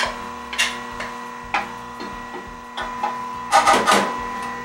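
An Omega NC800HDS juicer grinds almonds into almond butter with a steady low motor hum, broken by irregular crunching and cracking bursts as nuts pass through the auger, the heaviest near the end.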